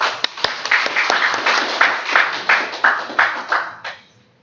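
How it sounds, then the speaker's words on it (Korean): An indoor seminar audience applauds to welcome a speaker, a close, steady wash of many hands clapping with a few sharp individual claps that fades out at the end. "우리 송재현 교수님 나올 때 박수로 환영해 주십시오"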